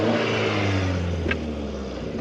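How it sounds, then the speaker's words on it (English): A modified MG6 car fitted with an aftermarket muffler, its engine humming loudly and steadily nearby with a deep low drone and a slight rise in revs. "I have a muffler on it. So I can just show you what that sounds"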